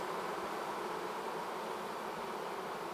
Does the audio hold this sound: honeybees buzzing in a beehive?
yes